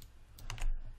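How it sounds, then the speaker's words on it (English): Computer keyboard key press during 3D modeling work, a couple of quick close clicks in a quiet room. "We're going to hit Q on our keyboard"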